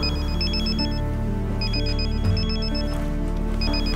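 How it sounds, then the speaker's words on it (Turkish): A mobile phone rings in a Turkish TV drama, a steady, loud electronic melody repeating in short bursts of tones that fills the whole moment, with no one talking over it. "Eylül, telefonum çalıyor."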